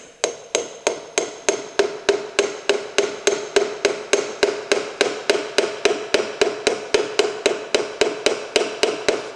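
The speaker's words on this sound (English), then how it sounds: "just gently tap round to make sure the ring compressor is flat all the way around" A hammer handle gently taps a piston ring compressor during an engine build, making a long, even series of crisp light knocks, roughly three per second and close by, with nobody talking.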